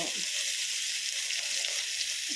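Potato, brinjal and tomato pieces frying for sambar, giving a soft, steady hiss of sizzling oil that stays even and fairly quiet across the short stretch, with no talking.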